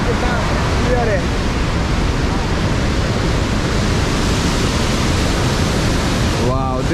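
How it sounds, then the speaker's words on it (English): A powerful waterfall roars continuously at the point where it starts, in Quebec City, a dense close rushing of high-pressure water with no let-up; a voice briefly sounds faintly at the start and end. "this is where the waterfall starts. Look at the strength and the pressure of the water."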